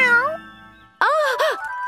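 A cat meows twice up close, first a falling mew, then after a short pause a louder, longer two-part meow.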